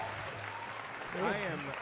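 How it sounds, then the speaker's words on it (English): Audience applause during a rock and variety revue show, a steady wash of clapping throughout with a voice speaking over it near the end. "They're applauding your Becker, not Becker himself."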